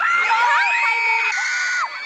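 Children's cheering squad at a school football match, a continuous high-pitched chorus of shouts and cheers from a crowd of young voices, loud and sustained throughout.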